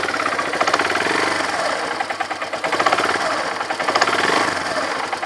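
Vehicle engine running steadily in first gear with the clutch engaged, a loud continuous rattling, knocking drone with a fast mechanical pulse and no speech.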